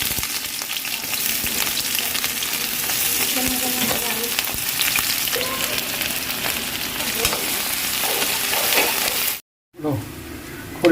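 Oil heats in a pan for a chicken dish, giving a loud, continuous sizzle with stirring scrapes, then a brief silence before the sizzle resumes more faintly.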